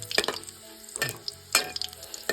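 Curry leaves and garlic sizzling in hot oil for a potato curry, with bursts of crackling spatter and clinks of a stirring spoon against the pan, loud and close, no talking.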